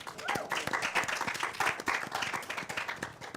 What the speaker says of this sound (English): So a round of applause for Stephanie.